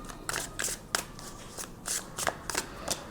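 Tarot cards are shuffled and drawn by hand, giving close, crisp riffling bursts at an uneven rhythm for a few seconds with no voice.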